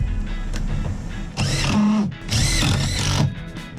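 A power drill drives screws into a van ceiling in two loud whirring bursts separated by a short pause, over low background hum.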